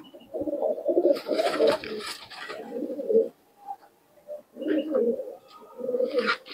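Fancy Giribaz and Andhra pigeons coo in a series of deep, throaty, pulsing phrases, close and fairly loud, with short pauses between calls.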